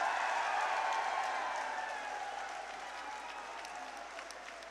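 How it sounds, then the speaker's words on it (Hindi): Sustained applause from a crowd at a political rally in Adampur, welcoming a guest being honoured, a dense steady clapping that fades slightly toward the end. "जोरदार तालियां से स्वागत।"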